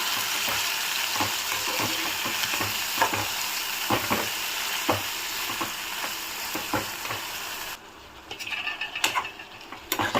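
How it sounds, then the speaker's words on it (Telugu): Coriander and onion for chutney get stirred in a sizzling pan, a steady frying hiss under repeated light scraping taps of the spoon, thinning out toward the end; no speech. "ఇప్పుడు ఒకసారి మొత్తం మిక్స్ చేద్దాం."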